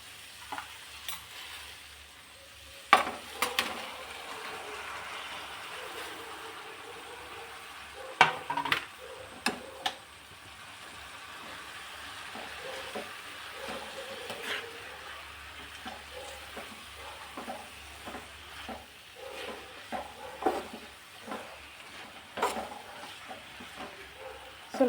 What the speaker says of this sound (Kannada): ಈರುಳ್ಳಿ ಎಲ್ಲ ಚೆನ್ನಾಗಿ ಫ್ರೈ ಆಗಿದೆ. ಇವಾಗ ನಾವು ಕಟ್ ಮಾಡ್ಕೊಂಡಿರೋ ಟೊಮೊಟೊನ ಹಾಕೊಳ್ಳೋಣ.